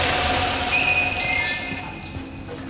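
Running water like a shower in the horror video game Dead Space 2, a steady hissing spray filling the scene, loud at first and gradually fading, with faint high tones above it.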